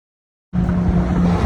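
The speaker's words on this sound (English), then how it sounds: "I live next to the highway, the freeway, so it's kind of noisy." Steady broadband highway traffic roar with a low hum, starting abruptly after a brief silence and continuing without pause; no voices.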